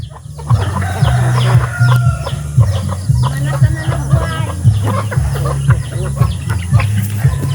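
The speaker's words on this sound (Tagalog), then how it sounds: "Tapay mga manok, daghan." Chickens cluck steadily at a farm during feeding time, a dense, close chorus of clucks over a constant low hum, with scattered higher calls throughout.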